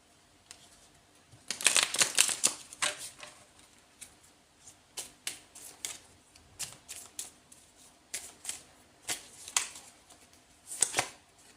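Astrology cards drawn and handled from a deck, a series of crisp papery flicks, slides and taps close by, with a busy riffling burst early on and then spaced single card snaps, no talking.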